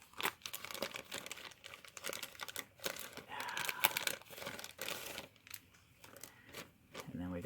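Plastic accessory pouch from a 1/48 VOTOMS Fatty Ground Custom action figure being opened and handled, close crinkling and rustling in irregular bursts throughout.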